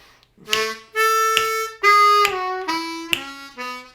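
Harmonica plays a short country blues lick over the 4 chord, starting on a 1 blow and jumping to a 4 blow, in four clear phrases of sustained, bending reedy notes with breathy attacks, close and alone.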